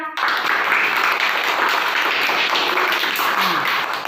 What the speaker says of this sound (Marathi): चला मग टाळ्यांनी एकदा आधी सुरुवातीला टाळ्या वाजवा